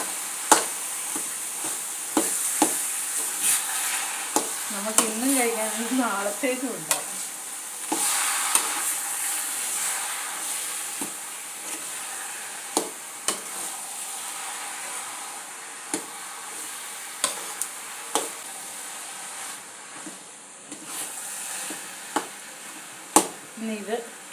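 Jackfruit being stirred and fried in a pan, with sizzling and repeated scraping stir strokes throughout while a person talks over the cooking.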